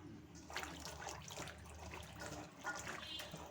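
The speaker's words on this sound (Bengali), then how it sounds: "তার জন্য প্রথমে আমি এইগুলোকে ভালো করে কেটে ধুয়ে পরিষ্কার করে নেব।" Chopped ghetkol (taro) stems and leaves being washed in water, with steady splashing and trickling close by, some brief drips, no talking.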